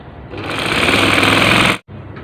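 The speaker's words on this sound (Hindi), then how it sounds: "तो अभी इसको अंदर की तरफ मोड़ते जाएंगे और इस पर सिलाई करते जाएंगे" A sewing machine stitches a ladies' shirt as the fabric is folded inward, with one loud, close, steady mechanical whirr that runs about a second and a half and then stops abruptly.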